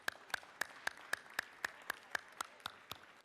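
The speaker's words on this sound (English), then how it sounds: "And let's give them a round of applause, if you will." A few distinct hand claps ring out in a state legislative chamber, about a dozen sharp, evenly spaced claps in a slow steady rhythm, fairly faint and unaccompanied by talk.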